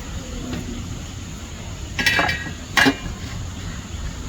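A pot of chicken kabsa with dried lemon is uncovered and stirred, giving two brief metallic clinks of lid and spoon against the pot over a low steady kitchen hum.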